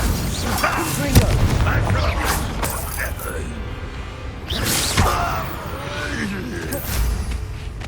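Confringo explosive spells burst in the video game Hogwarts Legacy, two punchy blasts with crackling tails amid combat clatter and creaks, with brief voices in the fight.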